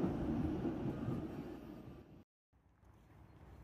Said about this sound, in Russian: Сейчас я еду в трамвае навстречу с городом